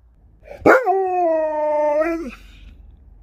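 A husky lets out a single drawn-out howl, rising sharply and then holding a steady, mournful tone for about a second and a half before trailing off.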